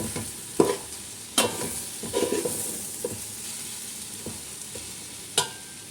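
Turmeric, chili, pepper and coriander powders mixed with salt in a pan for chicken curry: a constant soft sizzle with scattered spoon scrapes and a couple of louder knocks, close and without speech.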